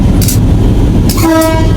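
A loud train horn blares twice from inside the locomotive cab, steady tones sounding over the constant rumble and rattle of the train, in Dire Dawa, Ethiopia.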